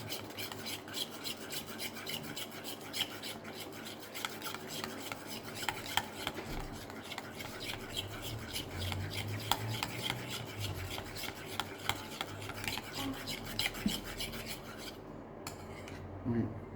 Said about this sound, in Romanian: amestec într-o singură poziție, nu în mai multe, că după aia o să se taie maioneza